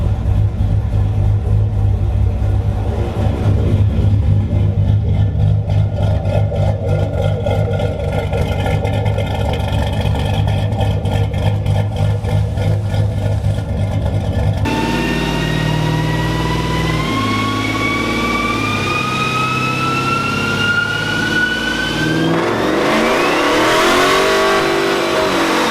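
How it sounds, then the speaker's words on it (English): A truck with a 5.7 Hemi and long tube headers revs and accelerates on a test drive, a loud, throaty engine note climbing through gears with a steady rumble, then a sharp shift and further rising pull near the end. "I'm going to take her for a test drive and get her on back to the customer."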